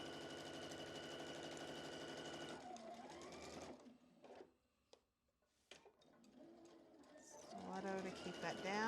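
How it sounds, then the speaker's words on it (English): A sewing machine stitches quilt block pieces in a chain, running steadily and close for several seconds, stopping, then starting again near the end. There is a quiet gap with small handling noises and some talk in between. "we're just sewing a couple of them"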